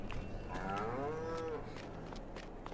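A single cow moos in the Farming Simulator 22 video game, one drawn-out low call at moderate distance over steady ambient background.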